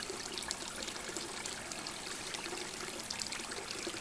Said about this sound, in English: Came across this water running free, and was thinking of you.